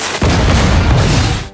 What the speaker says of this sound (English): The huge explosion caused a chain reaction that blew up all the bombs.